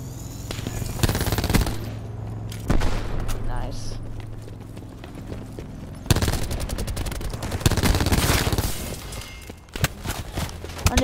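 Automatic gunfire in Call of Duty Black Ops 4, rapid loud bursts of shots rattling across the match in several volleys, mixed with booms and footsteps, with a player talking at times.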